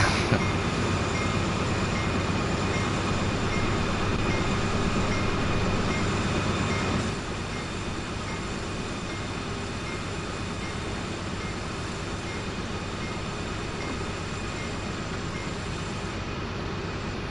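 A C40 locomotive drives in Train Sim World 2 on the Sand Patch Grade, giving a loud, steady diesel roar with constant rumble and hum. The level drops slightly partway through and then stays even, with no talk.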